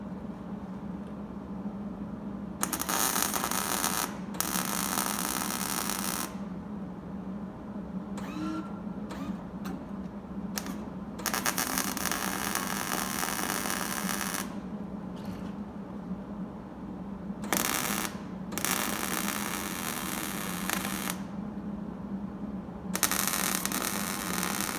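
Sheet metal welding on a cab corner and rocker panel of a 2003 Dodge, with repeated crackling buzzy bursts of a few seconds each separated by short pauses over a steady low hum.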